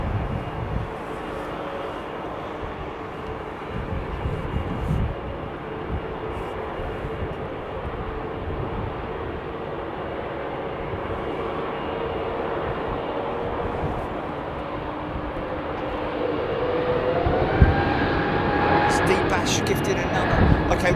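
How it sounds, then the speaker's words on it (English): A fixed-wing airliner landing at London Heathrow Airport produces a sustained, fairly loud engine roar with tonal whine rising toward the end, heard at a distance while people talk over it. "When they flare the aircraft, it sort of puts the undercarriage on the trajectory."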